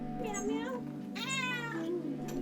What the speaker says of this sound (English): there was a small cat sitting on our doorstep